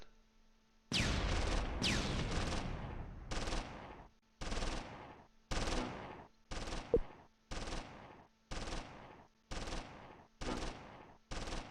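Bursts of gunfire from the WWII tactics game Close Combat III, with a long opening volley followed by a regular series of separate sharp shots, each ringing off and decaying before the next, loud and without voices.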